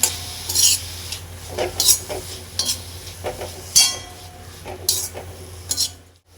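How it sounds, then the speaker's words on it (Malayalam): Sliced onion stirred in a frying pan for a spinach thoran, bursts of scraping spoon strokes with faint sizzling in between, close and fairly loud, stopping abruptly at the end. "സവാളയുടെ ഒരു പകുതിയാണ് വെച്ചിട്ട് നല്ലോണം ഒന്ന് ഇളക്കി കൊടുക്കുക"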